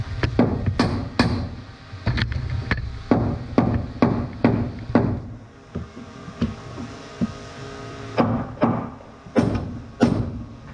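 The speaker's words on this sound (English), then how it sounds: "Really, I'm just hitting a nail on the other side." A hammer drives a nail into wooden roof framing, about a dozen sharp, loud strikes in uneven bursts with short pauses between groups, no talking.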